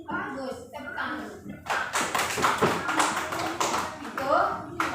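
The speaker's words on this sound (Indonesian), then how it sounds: "Bagus, tepuk tangan." Children in a classroom lesson about fruit clap their hands in a loud, quick burst of claps and taps that follows an adult speaking and fades as talk resumes.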